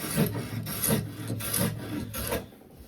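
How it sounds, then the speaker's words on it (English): A smoothing plane with a fairly heavy setting rounds over the end grain of a wooden footstool seat, giving four steady rasping strokes, close and moderately loud, with no talking. "Now for the round over, I'm going to use the smoothing plate."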